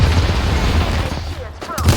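Dense close gunfire in Apex Legends during a match on World's Edge: rapid overlapping shots and heavy booms that thin out into a short lull, then resume, with a voice speaking over them.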